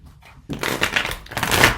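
Tarot cards shuffled close by, a brisk papery riffle of rapid flutters and snaps that starts suddenly and runs for over a second.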